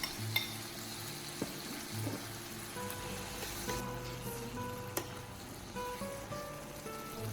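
Eggplant frying in a pan, stirred gently with a utensil, giving a steady low sizzle with a few soft scrapes and clinks of metal against the pan.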